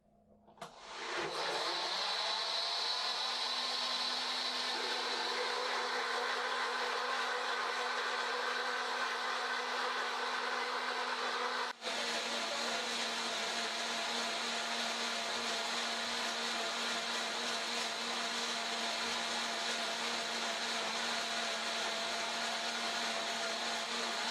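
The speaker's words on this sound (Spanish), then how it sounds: "Voy a prender la licuadora." A blender motor starts up and runs loudly and steadily with a constant whirring hum, briefly dipping midway before continuing at full speed, blending a homemade enteral feeding formula.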